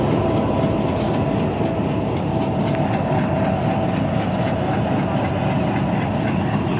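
Mehar Express, a private train, pulling out of Multan Cantt railway station, a steady loud low engine rumble and wagon noise filling the whole stretch with no clear breaks.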